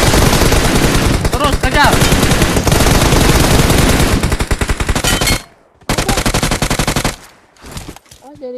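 Loud, rapid automatic gunfire in the shooting game PUBG Mobile, a dense sustained burst that cuts off briefly and then resumes, while players talk over it.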